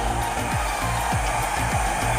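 A blow dryer runs steadily on low heat while drying hair, a continuous close whoosh with periodic low thumps and sweeps as it moves, no talking.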